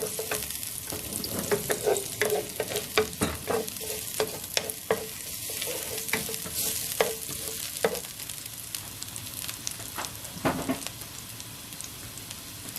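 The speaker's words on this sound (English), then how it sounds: "Heat up a pan with a little bit of oil and 1 cut up piece of garlic." Garlic sizzles in a little oil in a hot pan, a steady frying crackle broken by repeated scrapes and taps of a utensil stirring, with no talking.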